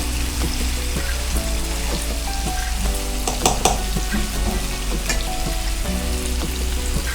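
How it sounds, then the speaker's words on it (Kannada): Chicken for Telangana chicken fry sizzles loudly in a pan on high flame, a steady dense crackle with occasional spatter pops and no talking. "ಸೊ ಹಾಗಾಗಿ ನಾವು ಹೈ ಫ್ಲೇಮಲ್ಲಿ ಫಸ್ಟ್ ಇದನ್ನು ಚೆನ್ನಾಗಿ ಫ್ರೈ ಮಾಡ್ಕೊಬೇಕು"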